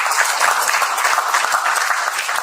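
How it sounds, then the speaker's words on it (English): Audience at a health and wellness talk event breaking into applause, a dense, even wash of many hands clapping, loud and close, with no talk over it. "I think that deserves an applause,"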